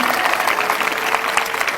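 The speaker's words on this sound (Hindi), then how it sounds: "एक ताली खुदावन की महिमा के लिए बजेगी" A congregation at a morning prayer meeting breaks into dense, continuous clapping, loud and close throughout, with faint voices mixed in.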